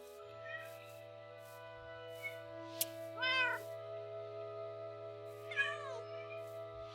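A cat meows a few times in a room, short faint calls spaced apart, with a steady electronic hum and quiet Minecraft game sounds playing underneath.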